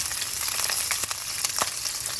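Thai chili peppers sizzle steadily in a hot pan while cabbage is being stir-fried, with sharp pops and crackles breaking through the continuous frying hiss.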